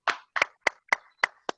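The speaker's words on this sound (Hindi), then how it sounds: "आपके लिए जोरदार ताली आप सबके लिए।" Six sharp hand claps spaced evenly in under two seconds, close and clear, from a training event audience, alone without talk.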